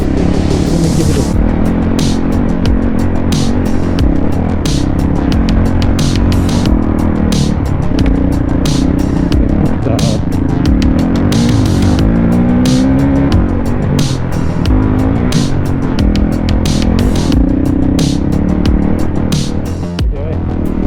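A Honda CRF450L or CRF300L dual-sport motorcycle accelerating hard on a trail, its engine loud and close throughout with rising and falling revs as it climbs through the gears, plus wind buffeting and no talk.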